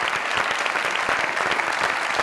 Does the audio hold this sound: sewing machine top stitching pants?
no